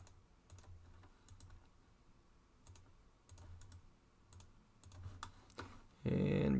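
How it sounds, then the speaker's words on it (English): Computer clicks while drafting in AutoCAD, a quiet close series of light taps in small clusters, ending in a louder burst of noise. "Click, click."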